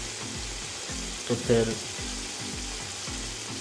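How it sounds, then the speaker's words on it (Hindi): Water goes into a hot pan of cooking chicken at a farm in Saudi Arabia, giving a steady close sizzle with a short louder splash-hiss midway, and a faint voice speaks briefly. "अब इसमें मैंने डालना है पानी।"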